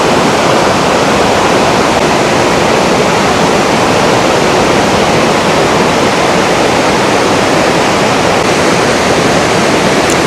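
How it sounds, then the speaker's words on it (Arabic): Loud, steady rush of a river in Rome, a dense continuous roar of flowing water with no pauses, close and unbroken. "ده النهر طبعا اللي احنا بنصطاد منه."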